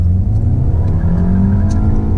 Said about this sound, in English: So you get wheel spin because it's front wheel drive, but it's fun.